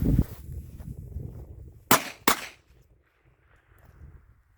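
Two sharp firecracker bangs in quick succession, loud and close, followed by quiet outdoor background; Piromax RC3 firecrackers.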